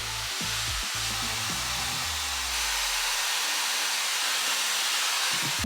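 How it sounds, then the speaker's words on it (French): A hair dryer fitted with a diffuser runs steadily on curly hair, a loud continuous airy whoosh that holds through the whole stretch, with some low rumbling handling noise early on and no talk. "Je vais sortir mon diffuseur."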